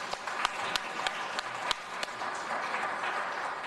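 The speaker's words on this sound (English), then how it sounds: "So let's please give them a round of applause." Audience applause at a Los Angeles Police Commission community meeting comes across as faint, scattered clapping with a few sharper individual claps, heard at a distance.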